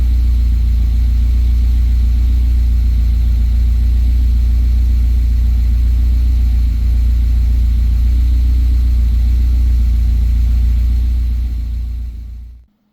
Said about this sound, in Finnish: Ihan pikkusen hakee tyhjäkäynti tuolla.